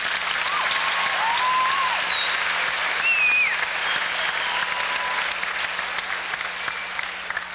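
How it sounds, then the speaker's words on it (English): Sustained crowd applause fills a 1985 North Andover High School Thanksgiving football pep rally, a steady wash of clapping with faint whistles and shouts from the gathered crowd. "I think they need a round of applause"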